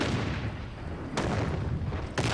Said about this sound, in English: Your homemade liquor is exploding again.